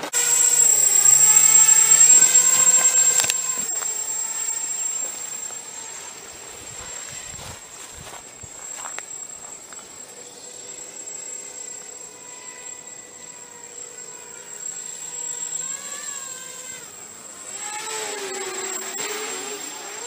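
An FPV drone flies at throttle with a high, whining buzz of spinning propellers that surges loudly at first, drops as it moves away, then rises again as it passes and returns.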